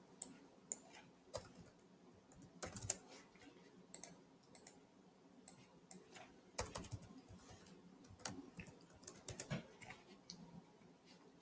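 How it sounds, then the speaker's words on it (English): Quiet typing on a computer keyboard, irregular clusters of sharp key clicks with brief pauses between bursts, close and soft, with no talking. "Keep typing it in because it's gonna overlay"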